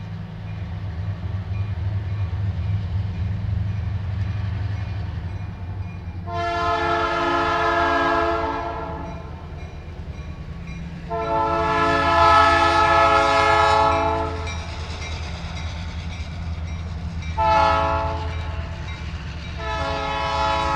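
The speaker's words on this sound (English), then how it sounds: "It's a slow-moving train." Slow freight-style train rolling past with a steady low rumble underneath as its horn sounds in several long, loud blasts, the last one shorter, with no voices.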